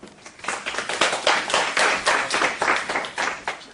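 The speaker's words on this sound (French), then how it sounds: "veuillez applaudir bien fort nos invités" A studio audience claps for guests being introduced on a French talk show, a steady rippling applause of many hands that swells in even waves and fills the whole stretch without voices.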